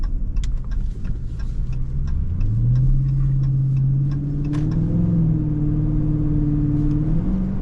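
Dodge Charger Scat Pack 392 V8 accelerating in a high fourth gear, a deep lugging rumble slowly rising in pitch, with steady ticking clicks from inside the car during the first half.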